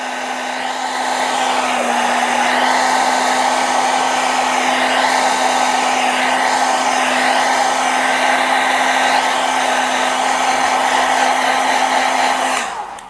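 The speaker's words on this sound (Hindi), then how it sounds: "आप ये देखो कितना दूर मैंने ड्रायर रखा हुआ है।" Hair dryer blowing on an alcohol ink flower painting, a loud steady whooshing roar with a constant motor whine, close by and unbroken until it cuts off at the end.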